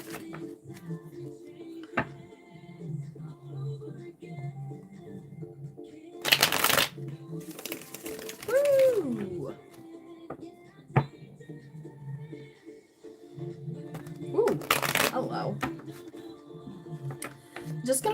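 Tarot cards shuffled in repeated bursts, with two loud riffling runs and softer card handling between them, close and fairly quiet over a low background hum.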